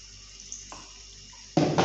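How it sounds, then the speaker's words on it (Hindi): Water is poured into a pan of fried potatoes for a potato and egg curry: a brief splash, then a sudden loud gush of pouring water, close and without talk. "अब इनमें हम थोड़ा सा पानी डाल के गलने के लिए"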